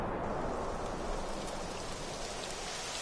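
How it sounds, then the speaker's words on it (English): Rain begins falling in the Dragon Quest XI video game, a steady, even hiss of downpour that holds at a constant level throughout with no voices. "It would have to go and start raining, wouldn't it?"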